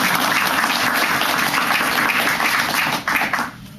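An audience at a peace-movement event breaks into steady, dense applause, loud and sustained before fading sharply near the end, with no voices over it.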